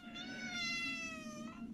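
A domestic cat gives one drawn-out, tonal meow, close and fairly soft, during grooming with a fur-removal glove.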